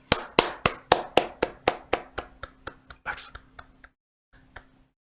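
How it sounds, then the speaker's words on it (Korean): A small group clapping in a steady rhythm during a stock-market lecture, about fifteen sharp, close claps gradually slowing and fading, then a brief pause and a couple of final claps. "박수."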